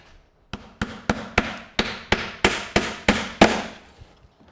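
About a dozen sharp, evenly spaced hammer blows drive nails into a wooden mullion cover, loud and close, each strike ringing briefly before the next.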